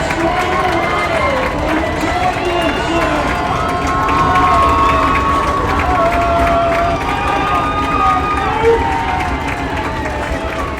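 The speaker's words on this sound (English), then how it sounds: "Crowd getting loud here at DCBT Ballpark." Baseball crowd at DCBT Ballpark during an Expedition League divisional playoff game, cheering and shouting loudly and continuously, a dense steady roar with whistles and raised voices throughout.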